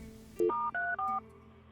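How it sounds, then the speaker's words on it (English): Four clear telephone keypad tones dialed in quick succession, each a short steady beep with brief gaps, a 911 emergency call being placed, close and distinct over a quiet background. "one vigilant observer dialed 911"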